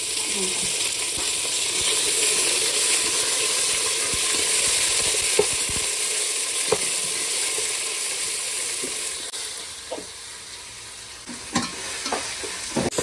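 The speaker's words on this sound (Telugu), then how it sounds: "మంచిగా మసాలా వేగిందండి." Masala for donne biryani fries in a pan with a steady, close sizzle and hiss, punctuated by occasional metallic clicks of a spoon stirring against the pan.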